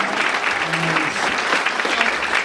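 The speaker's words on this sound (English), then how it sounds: "Let's give him a round of applause and we'll hear it somehow." Steady applause from an audience at a charity event, dense clapping filling the whole stretch at an even level.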